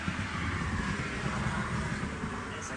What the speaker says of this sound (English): As a car goes flying by.